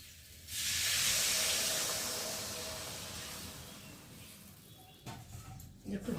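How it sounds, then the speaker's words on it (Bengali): Water poured into a hot pan of spiced sautéed vegetables sets off a loud, broad hiss that swells quickly and then fades slowly over several seconds, with faint clatter near the end. "আর এখন আমি জল দিয়ে দেবো"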